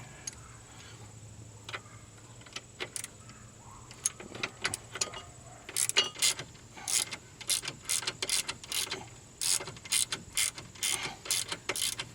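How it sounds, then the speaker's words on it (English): A new ratchet wrench turning an 18mm socket on an outer tie rod of a Pontiac Aztek, quiet at first, then bursts of rapid clicking in quick back-and-forth strokes, close up with no talking. "Got to use my new ratchet."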